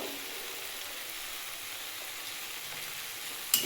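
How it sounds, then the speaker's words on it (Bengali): Pomfret curry masala being sautéed in a pan, a quiet steady hiss of frying oil and spices, continuous and close, with a brief clatter at the very end. "আমার এটা এখনও কষা হচ্ছে"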